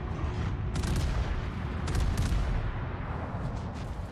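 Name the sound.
cruiser artillery fire in World of Warships video game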